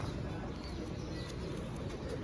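A Firozpuri pigeon coos softly with faint wing movement, quiet and close against a steady background hiss.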